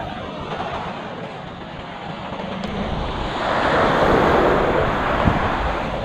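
Surf rolls steadily onto the beach at PMY in Rayong, Thailand, at high tide, a continuous broad wash with wind buffeting the microphone, swelling louder partway through with no one talking.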